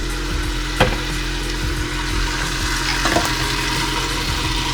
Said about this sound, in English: now you're ready to pour your rice into the pot. Your oil is nice and hot